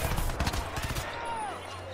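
Gunfire in the video game Crysis 2: a quick cluster of loud shots in the first second, then a lingering hum of game ambience.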